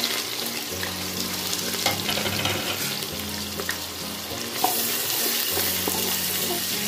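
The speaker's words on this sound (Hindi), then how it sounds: "प्याज को हमें हल्का सा भूनना है" Sliced onions frying in hot oil in a pan for mutton korma, a steady broadband sizzle that runs continuously and close throughout, with faint clinks and a shift in texture partway through as the onions are stirred.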